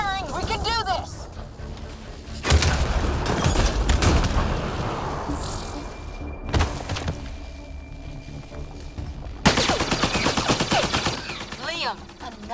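Bursts of gunfire in a Mass Effect Andromeda firefight, with loud volleys of shots at intervals over busy battle noise, while voices talk and shout throughout.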